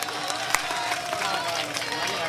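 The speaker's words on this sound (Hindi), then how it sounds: "थोड़ी बहुत ताली बज जाए" A crowd at a comedy mushaira breaks into scattered, moderately loud applause, a dense clatter of hands with crowd murmur and a voice mixed in.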